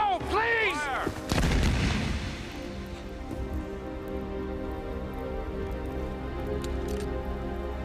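A firing squad's rifle volley fires as one sharp, loud blast, then rings out and fades into a long rumbling decay, with no talk after it.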